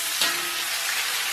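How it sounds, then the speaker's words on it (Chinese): Scallion and ginger hit a hot wok with pork belly, giving a steady hissing sizzle that jumps at the moment they drop in and then holds at an even, close level. "简单给它爆香"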